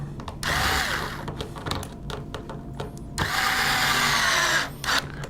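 A power screwdriver drives screws to fasten down a replacement front gear platform, whirring in two sustained close bursts separated by short ticking and clicking handling sounds.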